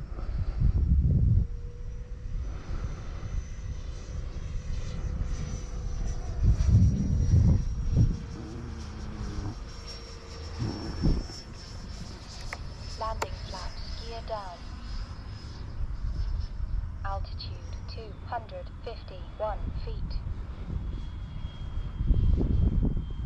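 A Freewing Cougar RC jet's electric ducted-fan motor whines as it flies overhead on a hot day. A high tone rises and falls, and its pitch bends as the plane passes. Wind buffets the microphone, and people talk nearby.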